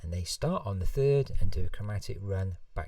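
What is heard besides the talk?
None of the usual background noises is heard.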